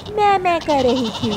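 A cartoon goat caught in the rain gives a few loud, wavering bleats up close, voiced by a performer imitating the animal.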